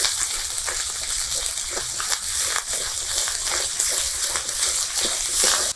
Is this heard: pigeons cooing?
no